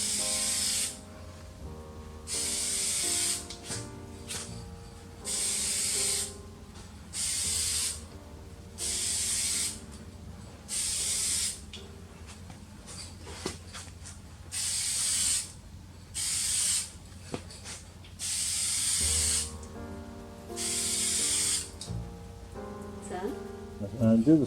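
Repeated short bursts of aerosol spray paint hiss, about a second or two each, as windshield wiper arms are coated, steady and fairly close with pauses between passes and faint background sounds.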